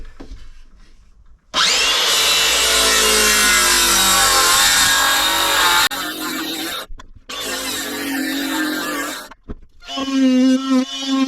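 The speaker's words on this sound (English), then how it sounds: "and then I'll finish it off with my multi-tool" An oscillating multi-tool cuts marine plywood during a campervan shower build in an LDV Deliver 9 van. It gives a loud, steady buzzing cut of about four seconds, then shorter rasping bursts with brief pauses, and ends on a higher whine.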